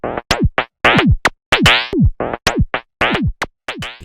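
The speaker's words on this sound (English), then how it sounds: "I made a drum loop and it sounds like this." Electronic drum loop built in Cubasis 3, punchy synthetic kicks with sharp downward pitch sweeps alternating with bright snappy hits in a tight repeating pattern, loud and dry with no voices.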